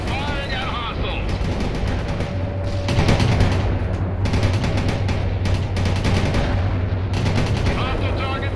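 Dense gunfire rattles through a World in Conflict battle, with rapid machine-gun bursts and heavy blasts over a constant rumble and voices calling out in combat.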